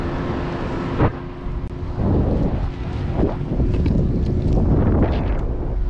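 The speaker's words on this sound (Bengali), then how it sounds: "নিচেই স্পিড বোর্ড" A speedboat runs at sea during parasailing at Cox's Bazar, its engine roar and water rush heavily buffeted by strong wind, loud and continuous with occasional thumps and no talk.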